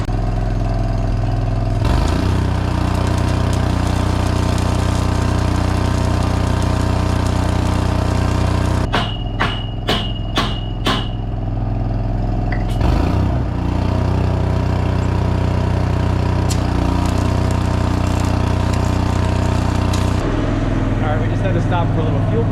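A vehicle engine runs steadily after refueling, a loud low idling drone throughout with a brief series of sharp rhythmic clicks partway, while a person talks over it.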